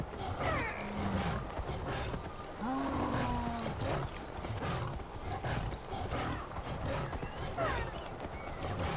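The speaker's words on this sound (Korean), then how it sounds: "검치 호랑이가 있어요" A sabertooth tiger in Far Cry Primal, with deep growling roars rising over a busy game soundscape of footsteps and rustling, while someone talks over it.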